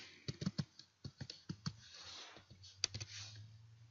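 Computer keyboard keys tapped in an irregular burst of quiet, close clicks, spaced unevenly with brief pauses between strokes.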